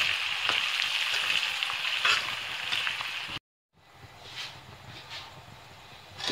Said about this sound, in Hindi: अब जो प्याज हैं 2, इसे हम फ्राई कर